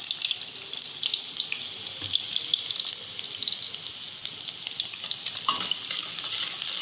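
Chopped onions sizzle and crackle in hot oil in a kadhai, a bright, steady frying hiss, close and continuous, with occasional pops and stirring noises and no one speaking.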